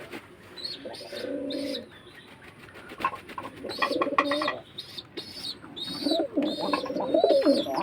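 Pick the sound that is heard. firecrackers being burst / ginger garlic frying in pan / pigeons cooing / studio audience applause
pigeons cooing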